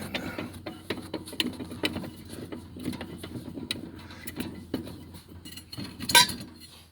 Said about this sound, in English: Just gotta lower this jack stand down.